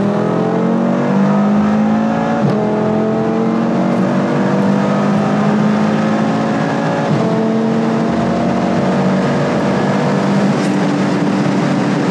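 A 560 PS Audi RS3 accelerates hard from 100 to 200 km/h, heard from inside as a loud, continuous engine roar that climbs steadily in pitch through each gear, with brief drops at the gear changes and no talking.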